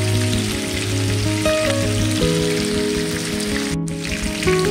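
Chicken fries in a pan with a steady, close sizzle, a constant crackling hiss under background music with no talk.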